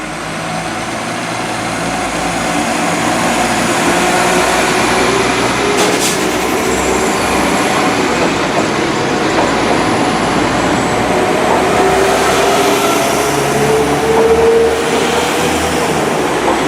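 Train running on the Snow Hill line near Blakedown station, a loud continuous rumble of wheels on rail that builds and holds, with faint wheel squeal drifting through.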